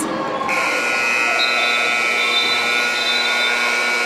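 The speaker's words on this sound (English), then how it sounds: "That's the sound of the buzzer. It brings us to halftime." Loud sustained buzzer marking halftime at a basketball game in the ABA, a steady electronic tone holding for several seconds over crowd noise and an arena announcer's voice.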